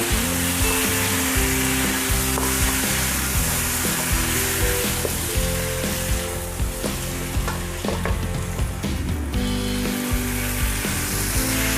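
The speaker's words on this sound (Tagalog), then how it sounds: "Pwede natin ilagay yung ating sinare na ribs. Hahaluin natin." Seared pork ribs tossed and stirred with tomatoes in a hot pan, a loud steady sizzle running throughout with scraping stir strokes and clinks of the utensil against the pan.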